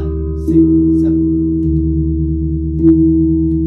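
Balinese gamelan gongs play through an 8-beat cycle, with a low, steady, humming drone and soft strikes at intervals that freshen the sustained pitched tones.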